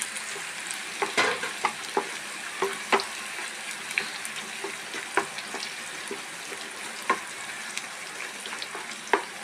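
Crushed ginger, garlic and green chili sizzle and fry in a pan, a steady hiss broken by sharp crackles and pops with occasional stirring scrapes, close and moderately loud.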